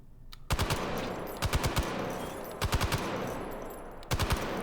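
Loud, close bursts from an M60 machine gun: three short groups of rapid shots with pauses between them, each burst ringing out with a sharp echoing tail.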